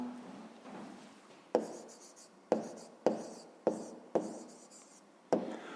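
A pen writes out a math solution on paper, six crisp scratchy strokes in an uneven rhythm, close and quiet with no talk.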